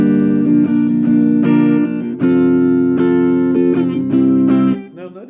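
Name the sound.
guitar strumming pattern played with fingers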